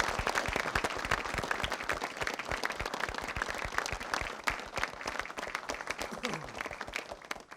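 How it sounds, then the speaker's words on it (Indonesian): Sustained loud applause from a large TV quiz show studio audience, dense steady clapping filling the whole stretch without a break. "hadirin kita beri tepuk tangan kembali buat ketiga peserta"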